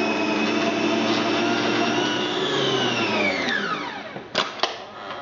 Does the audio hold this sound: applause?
no